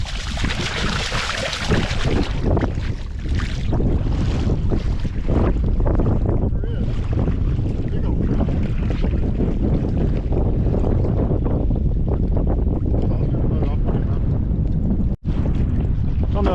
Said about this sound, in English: I don't know if you guys can hear me with all this wind going on